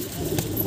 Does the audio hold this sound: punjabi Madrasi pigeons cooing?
yes